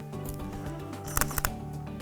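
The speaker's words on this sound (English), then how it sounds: "Now if I hit the shutter, only that one's going to fire." A camera shutter fires an off-camera umbrella flash in a home portrait studio, a few quick close mechanical clicks over a steady background hum.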